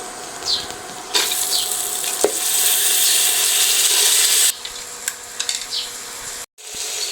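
Soaked whole masoor lentils dropped into hot ghee, a loud bright sizzle swelling for a few seconds, then easing to quieter crackle with scattered stirring clatter and a brief gap.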